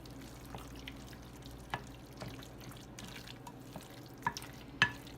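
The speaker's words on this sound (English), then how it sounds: "you're just going to give this a good mix." A spoon stirs egg salad in a bowl with soft, quiet scraping and a few small clicks against the side, faint and steady.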